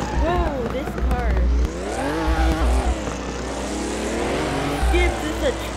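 A race car engine revs and shifts up and down in Assetto Corsa, its pitch swooping repeatedly, with tire noise underneath, loud and close while someone talks over it.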